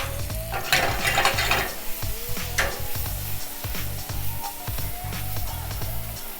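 Vegetables sautéing in a hot pan for a home-cooked chicken cordon bleu dinner, a steady loud sizzle with repeated stirring scrapes and clacks of a utensil against the pan, close up and without talking.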